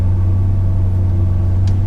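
An F15 BMW X5 starting up: a steady, loud low-pitched engine rumble with a strong hum and no speech.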